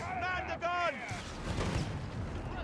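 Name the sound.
mortar pit bombardment in Company of Heroes 3 video game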